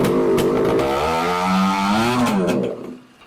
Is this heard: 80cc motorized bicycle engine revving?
yes